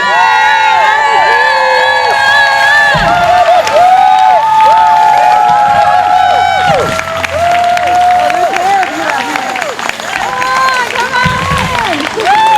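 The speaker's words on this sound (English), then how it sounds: "We're going to bring back our radical cheerleaders for another cheer" A crowd at a political get-out-the-vote rally cheers, whoops and shouts along in rhythmic chant bursts led by cheerleaders, loud and close throughout with brief dips between calls.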